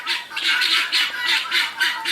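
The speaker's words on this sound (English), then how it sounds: "He's a beautiful bird." A large, showy bird with colorful head markings on an off-grid homestead squawks in a steady series of harsh, raspy calls, about eight in quick rhythm, close by and loud with no talk over them.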